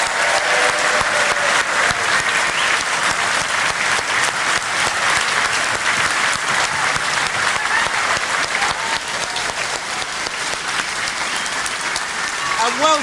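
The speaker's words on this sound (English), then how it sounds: "Let's have another round of applause for our fantastic candidates." A large crowd at a Brexit rally bursts into loud, sustained applause, a dense steady wash of clapping that holds for over ten seconds with faint voices underneath.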